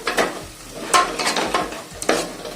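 Chili powder being stirred into chicken curry in a pan, a soft scraping and shuffling with a light sizzle underneath, in a few bursts of stirring strokes close by.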